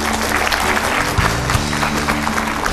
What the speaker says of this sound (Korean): 장대희 교수님 힘찬 박수로 모시겠습니다.